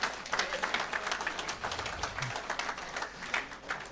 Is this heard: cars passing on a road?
no